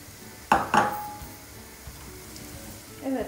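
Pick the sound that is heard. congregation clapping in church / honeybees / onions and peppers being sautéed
onions and peppers being sautéed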